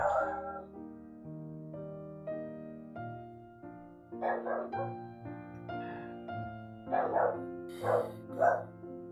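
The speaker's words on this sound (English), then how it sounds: "Excuse my dog barking." A dog barks in short bursts from another room, with clusters of barks recurring over a steady musical background, while a person talks during a Sudoku-solving session.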